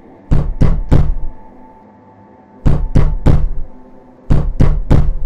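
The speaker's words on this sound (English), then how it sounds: "Someone's knocking." Three groups of heavy knocks strike a sealed door in a VRChat horror world, each a quick burst of three or four loud thuds separated by quiet pauses.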